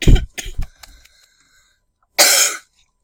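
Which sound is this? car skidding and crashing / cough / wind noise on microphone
cough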